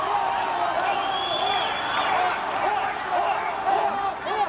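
A wrestling crowd at a tables match roars steadily throughout, a dense wash of cheering, shouts and scattered whoops that stays loud and constant with slight swells near the end.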